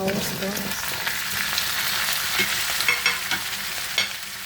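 Squash for pakbet is stirred in a hot cooking pan, a close, steady sizzle broken by soft scraping and knocking of the spoon against the pan, with no one talking.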